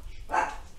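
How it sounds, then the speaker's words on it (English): A single short dog bark rings out at moderate distance over a low background hum, brief and fairly sharp. "Sorry for my dog barking."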